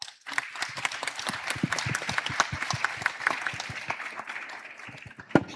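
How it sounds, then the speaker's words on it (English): Audience applause after a panel discussion at an energy conference: dense, steady clapping from a sizeable crowd that holds for several seconds, with a few sharper claps standing out near the end. "Please join me in a round of applause."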